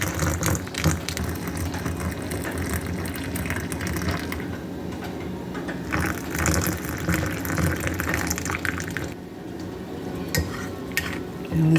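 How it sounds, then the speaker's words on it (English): Warm milk with marshmallow and hot cocoa mix being stirred in a pot for hot cocoa, a steady liquid swirling and sloshing with occasional clinks of the utensil against the pan, close and continuous. "let's get the chocolate and the marshmallow and the cocoa mix all mixing"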